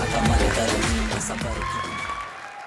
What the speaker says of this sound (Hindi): एक बार समीर साहब के लिए जोरदार तालियां हो जाएं।